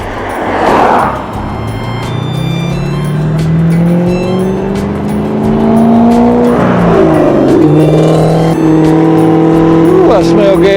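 A car passes close during a ride, its engine drone rising and falling steadily across the clip, briefly swelling as it goes by, with no talking.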